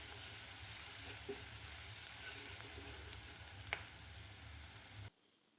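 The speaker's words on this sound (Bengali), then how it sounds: "এখন ভেজে নিচ্ছি" Onions frying in a pan with bay leaves and green chillies, a steady faint sizzle with a few soft stirring clicks, cutting off near the end.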